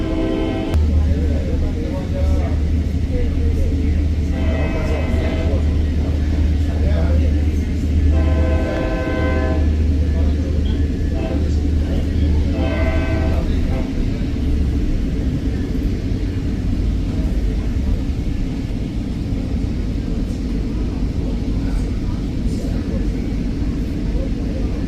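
A Tri-Rail commuter train in Florida rumbles steadily along the tracks with a deep, continuous roll, and several loud horn blasts sound over it while a voice speaks now and then.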